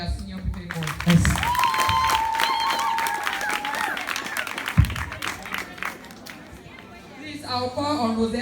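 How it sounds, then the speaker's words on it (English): Audience at a secondary school graduation ceremony clapping for senior students, a broad rattle of applause mixed with chatter, a voice speaking over it near the start and a resonant thump midway. "clap for your senior people"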